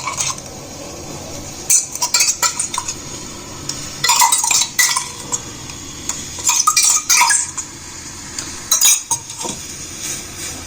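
Ground onion is being stirred into a bowl of homemade hair dye, giving irregular bursts of spoon-against-bowl clinks and scraping that come and go, close by and fairly loud, with no voices.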